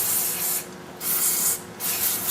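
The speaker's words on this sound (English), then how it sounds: "spray the whole damn board just to clean it off" Two close, hissing bursts of aerosol cleaner sprayed onto the circuit board of a Sony STR-D450Z receiver, each about half a second long, separated by a short pause.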